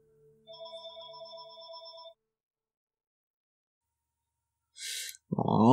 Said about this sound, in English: Oh man, having a landline, so much fun when you're trying to record things.